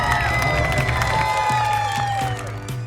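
A crowd at an annual outdoor Mustang car show claps and cheers for the winner, with whoops and whistles rising over sustained applause.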